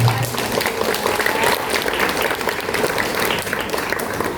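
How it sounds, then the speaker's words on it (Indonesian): An audience at a school graduation ceremony claps loudly and continuously, a dense crowd applause sustained throughout. "Tepuk tangan semuanya."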